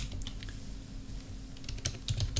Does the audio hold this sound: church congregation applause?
no